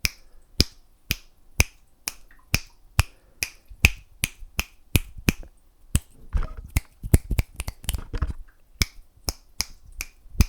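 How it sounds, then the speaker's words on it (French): Crisp finger snaps in an ASMR session, close and clear, first in a steady regular beat of single snaps, then a faster irregular flurry in the middle before returning to spaced single snaps; no talking. "Tu vas compter le nombre de claquements de doigts que je vais."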